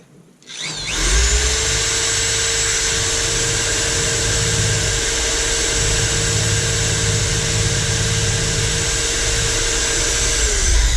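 A power drill with a titanium-coated bit bores into steel on a 1999 Kia Sportage, above the fuel tank. It spins up into one loud, steady, high whine that holds for about ten seconds with no pause.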